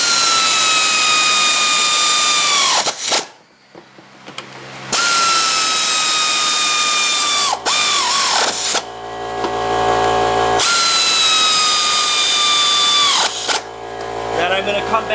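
Power tool driving and tightening bolts with a 14mm socket on a 2003-2007 Honda Accord upper control arm, in three loud sustained whirring bursts separated by brief pauses with clanks and shop noise.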